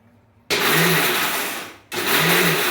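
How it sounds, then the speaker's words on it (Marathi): A mixer grinder whirs loudly in two bursts while grinding tamarind, peanut and jaggery chutney, running for over a second, cutting off, then starting again. "आता हे मिक्सरला ना मी अगदी मिक्सरचं बटन चालू बंद करत फिरवून घेणार आहे"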